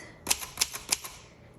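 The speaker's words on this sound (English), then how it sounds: "and now I can finish typing" A 1965 Consul 232 ultra-portable typewriter clacks out several crisp keystrokes in an uneven rhythm, close and loud in an otherwise quiet room.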